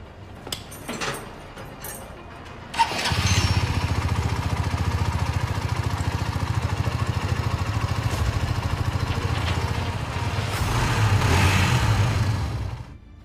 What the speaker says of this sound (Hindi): चलिए मैं आपको इसका अब एग्जॉस्ट साउंड सुनाता हूँ